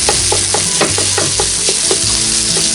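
Pork breakfast sausage sizzles loudly in a cast iron skillet at a camp cooking setup, with a steady hiss broken by repeated scraping and chopping taps of a utensil against the pan.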